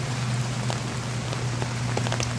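Heavy rain pours down onto a phone, a steady dense hiss with scattered sharper drop hits throughout, close and continuous with no voices.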